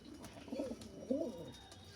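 Big pigeons of an old bloodline, kept for sale in Ashoknagar, coo in two low, throaty bursts close by, with soft twittering between them.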